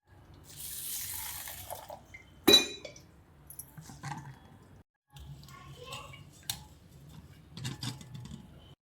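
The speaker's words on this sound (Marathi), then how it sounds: "आता तांदूळ मी धुवून घेते" Water splashes and swishes in a metal vessel as rice is stirred and rinsed, with a sharp clink partway and steady wet sloshing throughout.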